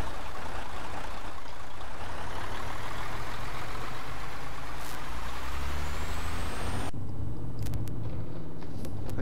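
A simulated heavy truck in Euro Truck Simulator 2 drones with a steady low engine rumble that builds throughout, with a hissing air-brake release and sharp mechanical clicks near the end.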